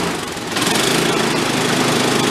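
A small engine on a trashed, repaired powered wagon runs close by, a buzzy rough idle that rises slightly as the throttle is held up, with a mechanical clatter throughout.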